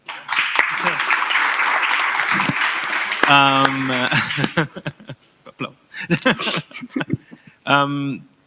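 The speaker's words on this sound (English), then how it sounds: "Probably they deserve another applause." Audience applause at a blockchain event, a dense wash of clapping for about three seconds, followed by people talking and brief laughter, with a second voice cutting in later.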